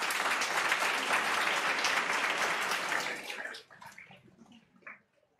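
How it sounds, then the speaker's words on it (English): A seminar hall full of people applauds with dense, steady clapping that thins out and fades to a few scattered claps near the end. "you are basically clapping for yourself"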